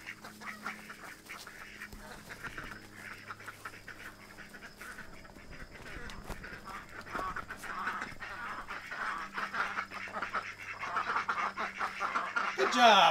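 Free-range ducks quack in a scattered, moderately distant chorus, growing louder toward the end, while a person's voice calls to them over the flock.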